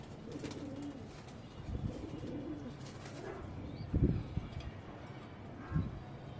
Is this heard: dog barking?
no